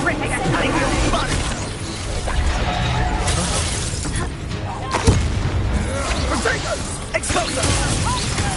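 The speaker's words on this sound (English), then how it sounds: "Explosion!" Magical combat explosions in the video game Hogwarts Legacy, heavy booms and shattering crashes over a dense, continuous battle din, with voices speaking throughout.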